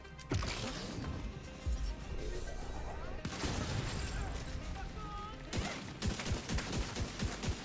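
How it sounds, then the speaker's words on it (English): Rapid gunfire from a firefight in The Division 2 video game, loud and near, in repeated bursts with brief gaps and crashing impacts, while someone talks over it. "I'm shooting through a bulletproof bush"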